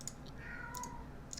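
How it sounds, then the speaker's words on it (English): A house cat meows once in a short, rising-then-falling call, faint and a little distant, with light computer keyboard clicks before and after. "My cat was kind of going nutso."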